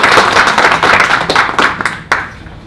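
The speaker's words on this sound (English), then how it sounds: "Can we give him a round of applause as he joins the stage?" A conference audience gives a loud round of applause as a guest joins the stage, many hands clapping densely together, then thinning to a few scattered claps before fading out.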